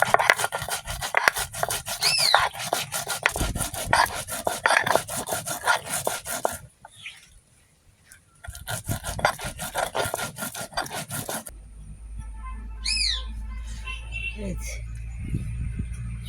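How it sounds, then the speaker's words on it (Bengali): Chillies, mustard seeds and cumin are ground into a paste in a home kitchen, making rhythmic rasping rubs and scrapes, then a short pause, then more grinding that turns fainter and is mixed with light clatter. "মরিচগুলো বেটে নেব।"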